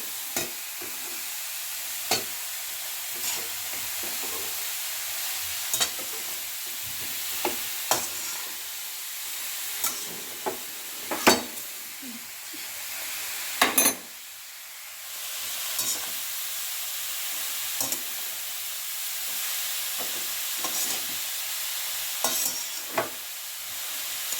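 Grated carrots fry in a pan for carrot halwa under a soft continuous sizzle, broken every few seconds by sharp scraping stirs of a spoon, heard close with no talk.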